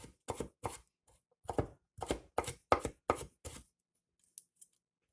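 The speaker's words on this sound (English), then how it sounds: "I'm gonna cut off about 2 inches, and I'm gonna mince that" About two inches of fresh ginger minced with a knife on a cutting board, a burst of quick, crisp chops in uneven rhythm that stops abruptly, followed by a couple of faint taps, close and clear.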